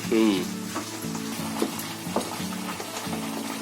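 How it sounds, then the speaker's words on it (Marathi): Kat vada gravy with roasted masala sizzling and being stirred in a pan at home: a close, steady frying hiss with soft scraping stirs and light clinks recurring every half second or so. "आता मी जरा झाकण खोलून बघते, जरा ढवळून बघते, खाली लागायला नको."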